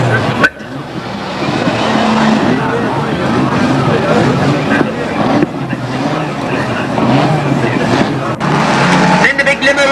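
Banger racing cars roar and churn around Ringwood Raceway in 1998, a dense, loud wall of engines with sharp knocks and a crowd hubbub beneath, while a commentator talks throughout.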